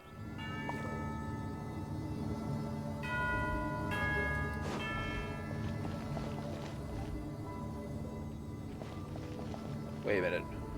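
A bell rings in Genshin Impact with clear, sustained tones that chime several times amid game music and footsteps, while a player talks over it.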